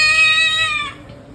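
A pet cat at a family home gives one drawn-out meow, fairly close and clear, lasting about a second before fading into quiet.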